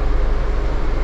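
Suborno Express, a luxury non-stop Bangladeshi train, pulling away from the platform, a steady loud low rumble with continuous mechanical noise and no clear beats.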